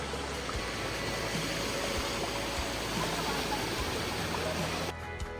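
Broadband rushing of stream water flowing strongly on the Kalsubai trek, loud and steady close by, with no talk, ending abruptly near the close.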